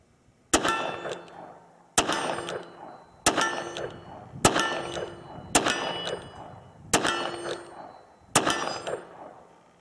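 A Smith & Wesson 686 Plus Performance Center revolver fires .38 Special rounds, seven loud close shots at a steady pace about one to one and a half seconds apart, each with a ringing metallic tail.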